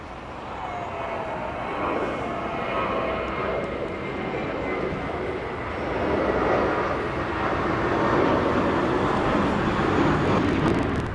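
Volaris Boeing 787-9 Dreamliner passing at LAX, a continuous jet rumble that swells midway and stays strong to the end, with no talk over it.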